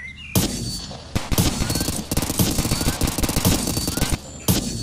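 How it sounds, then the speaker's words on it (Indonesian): Rapid bursts of video game gunfire crack out close and loud in several volleys, with brief pauses between the runs of shots. "Siapa yang menembak itu?"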